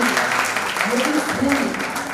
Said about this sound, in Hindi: हम चाहें कि एक बार आप सब जोरदार तालियों पर लगाएं